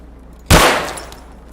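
A single sharp AK rifle shot in a video game cracks out loud and close, its burst of noise decaying over about a second against a quiet background hum.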